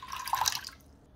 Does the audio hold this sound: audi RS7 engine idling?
no